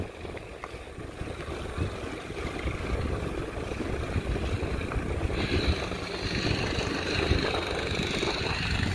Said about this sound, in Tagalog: naririnig ko yung makina